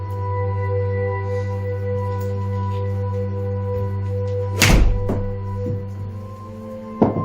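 Mizuno MP20HMB golf irons striking balls during a club fitting: one sharp, loud impact near 4.7 s and another brief crack near 7 s, both over a steady electrical hum with no talking.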